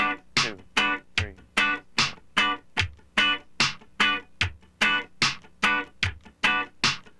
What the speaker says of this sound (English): The next downstroke is called the upbeat.